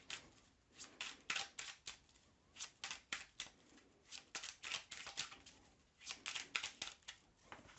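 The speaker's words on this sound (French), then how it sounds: "Je remélange et je tire cette carte." Tarot cards are shuffled for a card reading, giving quick rapid bursts of papery riffling and slapping in irregular clusters, close and quiet with no talking.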